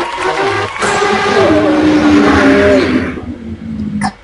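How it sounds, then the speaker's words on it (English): Race cars roar past in a loud, continuous engine drone that climbs in pitch as they accelerate, then drops off abruptly near the end, with no talking over it. "there's some race cars in the background."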